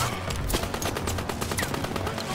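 Rapid continuous machine gun fire from a mounted MG in the World War II shooter Call of Duty WWII, a dense stream of sharp shots rattling steadily throughout with other gunfire mixed in.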